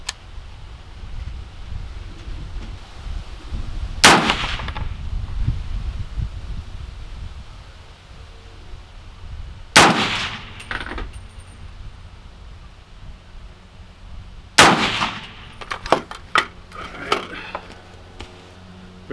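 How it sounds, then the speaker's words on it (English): Three loud, sharp gunshots from a Stag Arms 300 Blackout rifle aimed at an outdoor target, spaced several seconds apart, with a few fainter clicks and knocks after the last one over light wind noise. "We'll shoot the bottom right target."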